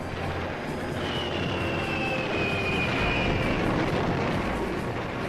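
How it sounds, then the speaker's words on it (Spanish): Stuka dive bombers fly over Russian territory in a World War II scene, a continuous heavy aircraft engine roar with a high whine sliding slowly downward, loud and steady throughout. "cientos de bombarderos en picados Tuka entraron en territorio ruso"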